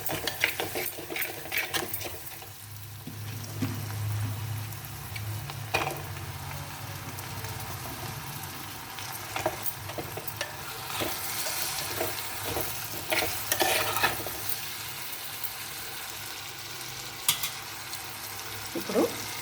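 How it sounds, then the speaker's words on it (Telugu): Drumstick pieces fry in a pan with onion, salt, chili powder and turmeric, a soft steady sizzle broken by scattered scraping stirs and clinks, at moderate level with no talking. "ఇప్పుడు ఇందులో ములక్కాడ ముక్కలు వేస్తున్నాను."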